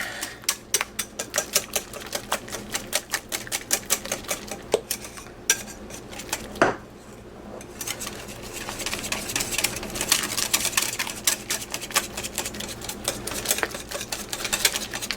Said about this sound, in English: we can probably finish up with the whisking here